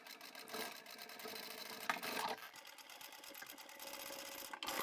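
A sewing machine stitches up the side of a tall boxy bag where the zipper slider sits, running in a steady continuous whir with a short pause near the middle and a brief stop near the end.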